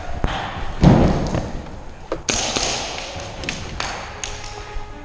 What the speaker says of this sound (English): your mag fell out of your gun